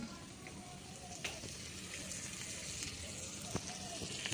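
Prawns sautéing in a pan give a steady frying sizzle with a few brief clicks and stirring knocks, fairly faint throughout.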